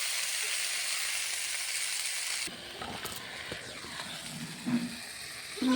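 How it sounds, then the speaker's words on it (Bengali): Potato and eggplant fry in a pan with salt and turmeric, giving a loud, steady sizzling hiss that drops abruptly to a softer crackle halfway, with a couple of faint clinks. "আলু বেগুনটা ভালো করে কিছুক্ষণ সময় নিয়ে ভেজে নেব।"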